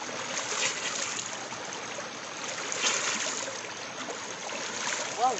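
A river flows through a Sumatran jungle near the twin peaks of Mount Carua, a steady close-up rush and gurgle of water that runs unbroken throughout with no voices.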